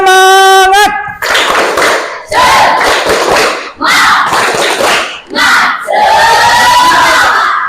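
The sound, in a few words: class performing the 'tepuk semangat' clapping chant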